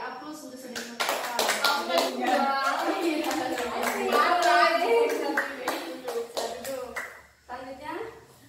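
Classroom applause for a student named Novita during a guidance and counseling practice session: a steady round of many hands clapping for several seconds, with voices talking over it.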